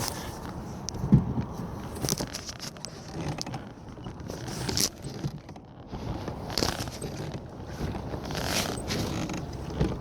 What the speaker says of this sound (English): my right oar has a creak to it right now